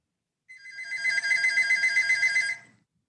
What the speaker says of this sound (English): got a phone call there